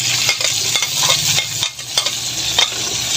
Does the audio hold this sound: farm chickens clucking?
no